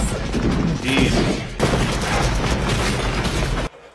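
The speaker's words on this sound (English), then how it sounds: "Gotta have explosions." A dense, loud rumbling barrage of blasts and crashes from the 1987 action film Predator, explosions and gunfire continuing without pause before cutting out abruptly.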